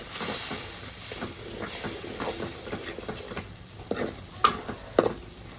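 Chili frying in a pan is stirred, giving a steady sizzle with repeated scraping strokes. Louder spoon knocks and clatters come toward the end, and no one speaks.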